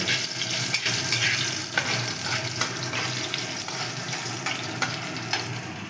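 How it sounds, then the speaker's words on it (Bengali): Continuous close sizzle of a freshly ground raw spice paste frying in a pan, a dense even hiss dotted with faint crackles and light clinks, no voices. "কাঁচা মশলা আমি পেস্ট করে এটা দিয়ে তোমরা একসাথে ভাজতে নেবে"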